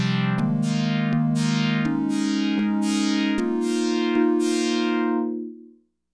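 Original Oberheim OB-8 analog synth patch of a pure triangle tone joined by a pulse wave fading in with pulse width modulation, a sustained, slowly sweeping chord with regular clicks, loud and close, then released.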